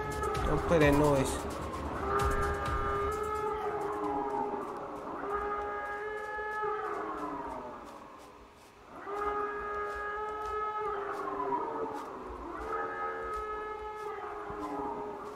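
A siren wail from the indie horror game Sirenhead: SouthPoint rises and falls in long, mournful sweeps, repeating roughly every four seconds, loud and eerie over a low ambient drone, with brief voices near the start.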